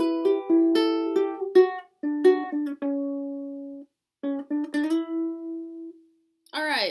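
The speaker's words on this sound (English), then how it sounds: "So once again, the main riff sounds like this." Ukulele picks out the main intro riff of a song, with plucked notes sounding close and alone. They fall in short phrases with brief pauses and long ringing tones, and a stray strum lands at the end.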